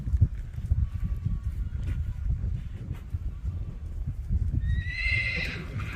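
An 8-year-old Tennessee Walking Horse stallion snorts and shifts, hooves clopping on the ground nearby, and near the end it lets out a high whinny.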